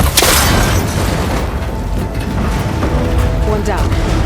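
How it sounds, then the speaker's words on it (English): A cable connector shot and broken apart in Horizon Forbidden West gives a loud burst followed by sustained rumbling, mechanical clatter and ringing metallic debris. "That connector's holding the cables together. It should break if I shoot it."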